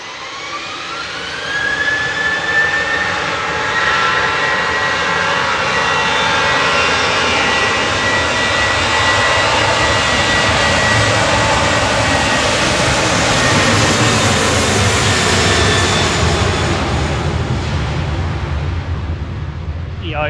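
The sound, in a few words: Eurowings jet airliner, flight 561 to Dublin, at Manchester Airport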